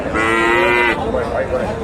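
A Friesian heifer at a cattle market gives one loud, close, drawn-out moo that lasts about a second, followed by a lower rumble and market background.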